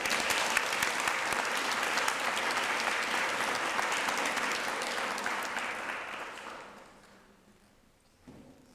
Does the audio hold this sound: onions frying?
no